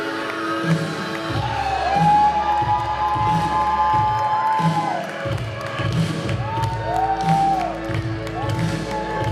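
A wrestling crowd cheers and chants for a heavyweight champion, loud and sustained with rhythmic shouts and whoops, punctuated by dull thumps, the din filling the hall.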